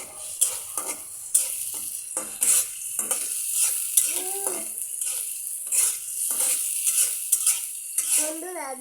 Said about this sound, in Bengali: এখন আম্মু পেঁয়াজ রসুন তেল লবণ দিয়ে ভেজে নিতে আছে।